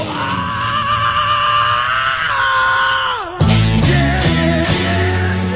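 A long raw scream on a played song recording, a sustained rising and falling sung cry held over several seconds before band chords crash in loudly.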